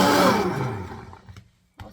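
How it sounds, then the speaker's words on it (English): A hand blender whirs through sweet potato and rosemary soup with a loud, close whine that drops in pitch as the motor winds down, followed by two brief clicks. "Using a hand blender, make sure to give it a stir"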